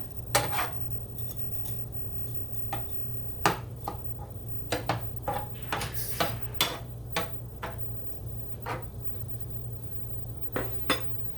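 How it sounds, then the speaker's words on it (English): A spoon clinks and scrapes against a metal pot while Alfredo sauce is stirred, giving irregular sharp taps and knocks spread over the whole stretch above a low steady hum. "I'm just gonna stir up the sauce a bit."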